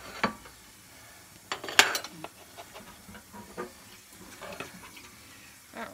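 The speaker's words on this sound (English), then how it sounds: "let's cut us a slice and see how it's going to be" A utensil scraping and clinking against a dish while a slice of upside-down strawberry cake is cut, a few faint, sparse taps and scrapes close by in a quiet kitchen.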